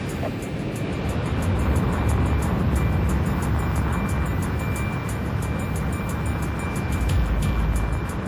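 A fighter jet takes off in the Ace Combat Infinity video game, a steady, loud broadband engine roar that holds constant with faint rhythmic ticking on top.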